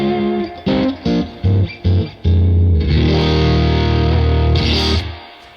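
A LUMOS reverb pedal plays a few short, sharply stopped tones, then a long swelling shimmer-and-hold wash that sustains loudly before fading.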